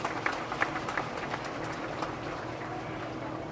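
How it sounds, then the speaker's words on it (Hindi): An audience claps at a political rally, a dense patter of hands from a large crowd that stays moderately loud and steady for a few seconds. "जोरदार ताली बजाकर"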